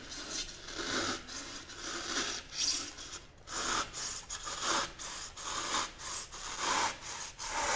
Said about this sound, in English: you can gently move the saw back and forth